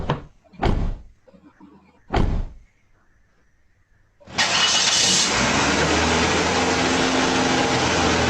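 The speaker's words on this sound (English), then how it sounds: "Car started." A car engine starting sound effect: a few sharp door-like thumps separated by quiet, then the engine catches and settles into a loud, continuous running rumble.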